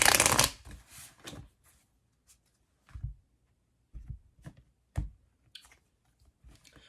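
Oracle cards being shuffled for a tarot reading, starting with a loud riffle, then softer bursts of card handling and brief clicking spaced across the quiet stretch.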